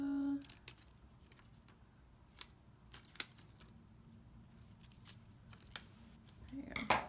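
Scissors trim heat transfer vinyl letters in a few faint, scattered snips against a quiet room hush.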